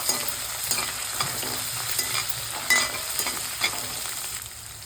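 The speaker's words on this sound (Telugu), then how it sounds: "అల్లం వెల్లుల్లి పేస్ట్ కూడా పచ్చి అసలు పోయేటట్టు అయితే ఫ్రై చేసుకోవాలండి" Ginger garlic paste frying in oil in a pan, a steady close sizzle punctuated by scraping stirs of a spoon against the metal, with no talking.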